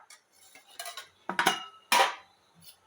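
A cooking pan is set down on a gas stove in a home kitchen, giving a few quiet metallic clinks and clanks in short separate bursts, two of them louder, with no talking.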